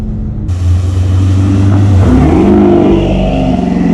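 A Dodge Hellcat V8 engine revs loudly and close, climbing from a deep idle rumble into a sustained roaring pitch rise, with no talking.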